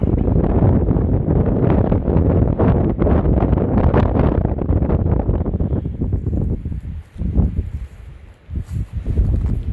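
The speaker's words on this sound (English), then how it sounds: "Now the wind is really loud." Strong gusting wind roars loudly across the microphone on a spring night walk on a hillside, with a continuous blustery rumble that dips briefly before surging again.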